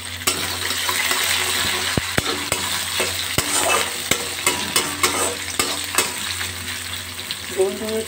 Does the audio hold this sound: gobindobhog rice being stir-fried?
yes